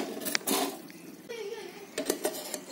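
A lid comes off a clay cooking pot holding a pangas fish dish, with a few light clinks and scrapes of pottery against pottery, sitting close and fairly quiet.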